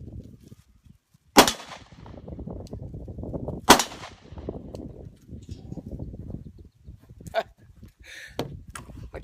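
Glock pistol shots fired outdoors at a propane tank and sheet metal: two sharp, loud reports a couple of seconds apart, then fainter metallic pops, amid quiet background rustle.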